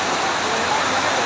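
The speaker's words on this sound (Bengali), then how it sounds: "আপনারা দেখতে পাচ্ছেন যে এখন কিভাবে বৃষ্টি হচ্ছে," Heavy rain pours down at a market in Noakhali, a dense, even roar of falling water and splashes heard alone and up close.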